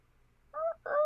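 A person imitates a rooster crowing loudly during a Dungeons & Dragons session, giving two short, strained, bird-like squawks in quick succession that sound close and clear against a quiet background.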